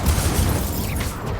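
A fire spell cast in Hogwarts Legacy gives a brief, dense whooshing burst with a heavy low rumble, loud and close, holding steady for a moment before thinning out.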